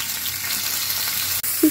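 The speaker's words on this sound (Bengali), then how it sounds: "পুঁটি মাছ ভাজলাম" Small puti fish fry in hot oil with a steady, close sizzle, ending in a brief scrape of stirring.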